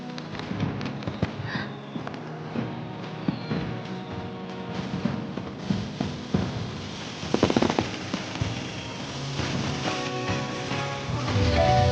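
Fireworks going off, a dense stream of pops, crackles and occasional thumps that builds toward the end, under a music-like backdrop.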